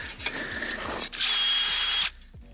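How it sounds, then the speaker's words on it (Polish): A power drill bores a hole nearby, first with short rhythmic clicks and a lower whir, then a loud sustained high-pitched spin for about a second before stopping abruptly. "Będziemy wiercili dziurę."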